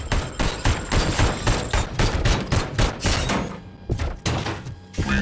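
Rapid bursts of gunfire during an ED-209 attack in RoboCop: Rogue City, loud and close, with clustered shots pulsing in quick succession and brief gaps between volleys.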